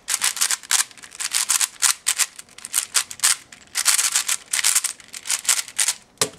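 Rapid plastic clicking and rasping as the layers of a modded, lubricated V-Cube 6 puzzle cube are turned, close up in quick uneven bursts with no talking.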